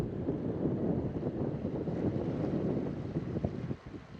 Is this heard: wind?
yes